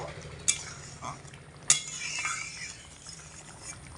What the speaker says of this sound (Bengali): এক চামচ গরম গুঁড়ো মশলা দিয়ে হালকা হাতে একটু নাড়াচাড়া করে মিশিয়ে নেব